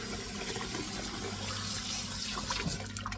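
Tap water runs steadily over a bunch of green leafy vegetables being rinsed in a kitchen sink, a continuous close splashing wash with no talk.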